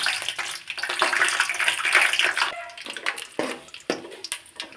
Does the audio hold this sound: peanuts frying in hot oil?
yes